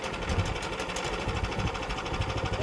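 A sawmill's engine runs steadily with the choke on, a continuous close, loud, rapid mechanical chatter and rumble that holds level throughout without any voices.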